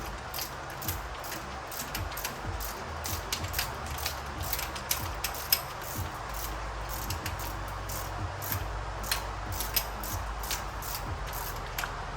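Rocker arms being snugged down on a Ford 351W small-block V8, a steady run of faint metallic ratchet clicks and small mechanical ticks over low background hum, with no talking.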